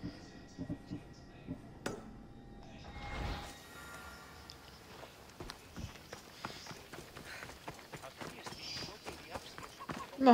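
Rhythmic hoofbeats of a horse galloping in a video game, clip-clopping at speed, steady and close, with a brief metallic clank early on and no talking.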